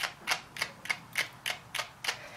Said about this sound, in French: On va prendre une petite brosse.